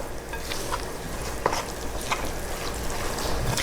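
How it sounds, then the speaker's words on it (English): A spoon stirring zucchini bread batter with walnuts in a bowl, producing a continuous soft wet scraping and churning with faint clicks, fairly quiet and without speech. "I'm going to bring in my spoon again, and I'm going to get this all mixed up."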